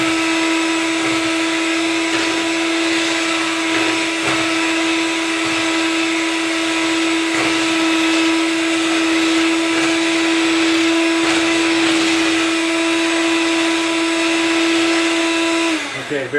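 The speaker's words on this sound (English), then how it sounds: "Now I'm going to go ahead and turn my mixer off for just a moment." Electric mixer whipping chocolate mousse in a bowl, a loud steady motor whine with a constant pitched hum that runs unbroken for about sixteen seconds before cutting off at the end.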